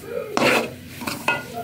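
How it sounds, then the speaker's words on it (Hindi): Coarse wheat flour roasting in desi ghee for halwa, stirred in a pot: repeated bursts of scraping and stirring over a soft background sizzle, close and fairly loud. "पहले आटे की भुनाई हो रही है"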